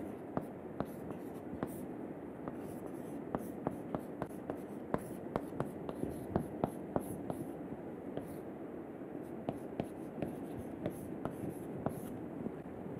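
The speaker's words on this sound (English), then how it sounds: "I will write the final equation that we should get over here" Chalk or marker writing an equation on a lecture board, heard as a steady run of short taps and scratchy strokes in a quiet room with no speech.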